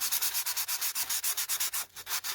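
Rough rainbow opal stone being sanded, a close, bright rasping rub repeated in quick, even strokes with no talking.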